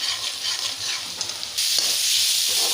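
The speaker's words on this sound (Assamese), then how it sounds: "তাৰপিছত এতিয়া আপুনি মছলাখিনি বৰ সুন্দৰকৈ আপুনি ভাজিব লাগিব।" Spice masala sizzles in hot oil for a fish curry, a steady close frying hiss with stirring that grows louder and fuller partway through.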